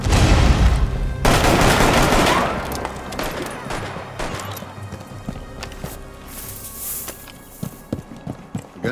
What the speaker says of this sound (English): Gunshots rang.